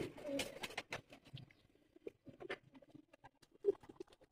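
Pigeons in a loft setup coo softly while wings flutter and patter in short bursts, fairly close, with faint voices in the background.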